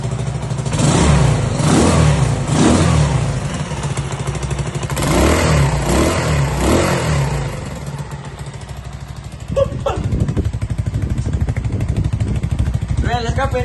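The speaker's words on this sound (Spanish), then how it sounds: "Truena el escape, truena el escape" A Moto Vento motorcycle under repair revs hard, its exhaust roaring in repeated surges before dropping back and picking up again, loud and close, with a voice talking over it briefly.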